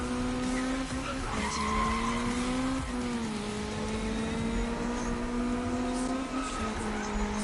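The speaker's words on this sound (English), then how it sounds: "Those are handbrake turns. Those are power slides, pretty much." In the Need for Speed 2015 racing game, a Honda Civic drifts through handbrake turns and power slides. Its tires squeal in a long, continuous skid over a steady, droning engine note, close and loud throughout.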